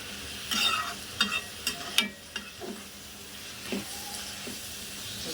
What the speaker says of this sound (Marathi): छानसे परतून घ्यायचं, त्याला जरा सुंदर असा कलर पण येतो